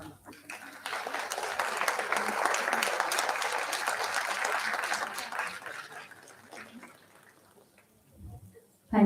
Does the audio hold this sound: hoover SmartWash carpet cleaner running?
no